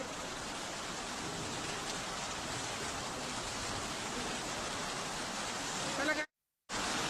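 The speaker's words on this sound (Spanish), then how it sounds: "Una fuerte e intensa lluvia" Heavy, intense rain pours at Calama airport, a dense continuous hiss that stays steady and loud before cutting off abruptly near the end.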